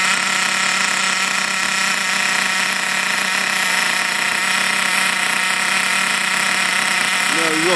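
A brand-new 4.6 Trophy Truggy RC nitro engine runs in during break-in, a loud, continuous high-revving buzz that holds steady and fills the whole stretch without pause.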